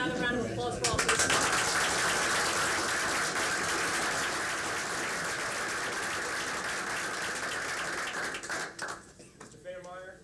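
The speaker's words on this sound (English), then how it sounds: "Ladies and gentlemen, another round of applause for all please." A crowd applauds at a school board meeting, a loud sustained wash of clapping from many people that fades out near the end, with a voice briefly heard under it.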